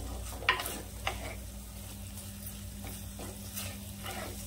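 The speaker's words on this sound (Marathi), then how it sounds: "आता ही 1-2 मिनिट चांगली परतून घ्यायची आहे." Kolhapuri-style misal masala sautéing in a pan, with a steady close sizzle and a few sharp scraping stirs near the start, then continuous frying noise with no talk.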